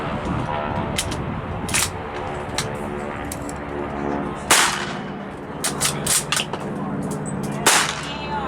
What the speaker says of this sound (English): Fires from an open bolt. Rounds are going to shoot out to your right.